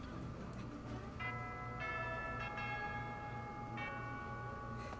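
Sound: small bell ringing in the video game Fire Emblem: Three Houses

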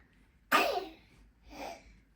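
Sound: cat sneezing

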